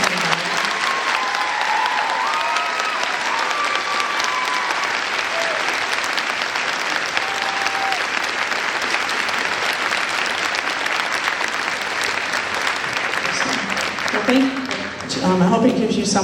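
An audience at a speech gives sustained, loud applause, dense clapping from many hands holding steady for a long stretch before voices briefly surface near the end.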